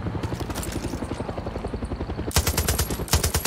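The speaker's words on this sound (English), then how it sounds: "This is an anti-aircraft gun right here." An anti-aircraft gun fires on a tank in the shooter game Far Cry 6, with a loud rapid stream of heavy gunshots in a steady rhythm that turns sharper and more forceful partway through.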